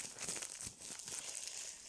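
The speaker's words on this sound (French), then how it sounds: "on repart avec les ciseaux qui coupent à moitié, mais qui feront l'affaire" Dull, half-working scissors snip and crinkle through plastic packaging while unboxing a pair of canvas prints, producing close, quiet rustling and tearing crackles without talk.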